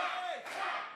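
A wrestling arena crowd in Indianapolis roars and shouts in a dense, continuous wash of voices.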